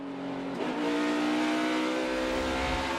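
A NASCAR Xfinity Series race car downshifts through third and fourth gear at Phoenix, its loud engine note dropping with a sharp blip before settling into a steady, harmonic drone.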